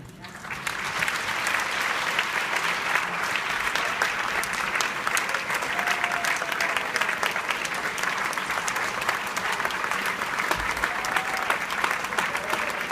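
Sustained audience applause fills a political event hall honoring Congressman Chris Smith, steady dense clapping from a large crowd running the whole stretch without letup.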